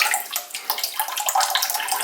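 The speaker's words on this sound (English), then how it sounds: "afterwards you just pick it up and you let everything drip out" Water drains and trickles out of a soaked kokedama moss ball that has just been lifted from its soak. The steady splashing, running-water sound stays close and fairly loud for the whole stretch, with no voices.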